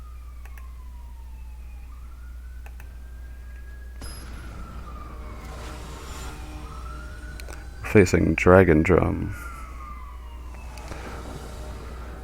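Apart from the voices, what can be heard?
ambulance siren passing in the street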